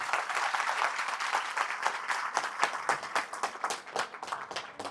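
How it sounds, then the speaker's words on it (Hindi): A crowd at a leadership seminar for direct selling and business people claps loudly and steadily, a dense wash of many hands holding evenly throughout. "एक बार जोरदार ताली आप सभी के लिए"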